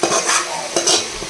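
Egg and spice powder stir-fried in a pan with a splash of water, heard as a close, loud sizzle broken by two quick bursts of stirring, brief and without any voices.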